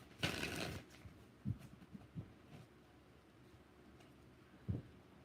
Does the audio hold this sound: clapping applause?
no